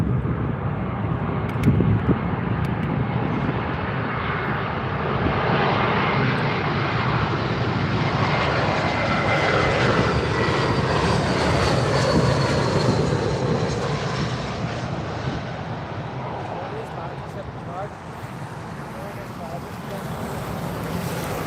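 A British Airways Airbus A320 landing on runway 27R at London Heathrow passes with a long, loud jet roar and whooshing wind noise that swells and slowly fades, with faint voices underneath.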